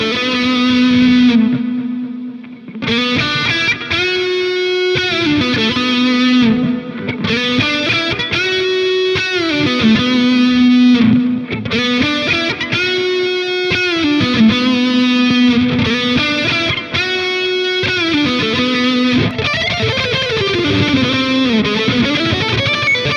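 A heavily distorted electric guitar, its tone made with AmpliTube 5 amp-simulation software, plays a fast, sustained lead line with bright, buzzing tone and a brief pause early on, loud and alone.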